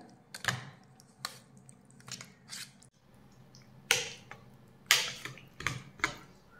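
Irregular clicks and soft scrapes of a spoon stirring Marathi cucumber koshimbir with tempering in a bowl, with short quiet gaps between strokes and no talking.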